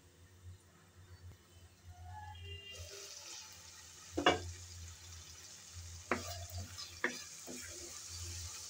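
Mutton liver masala frying in a covered pan gives a quiet, steady sizzle, broken by a few sharper clatters of stirring or the lid.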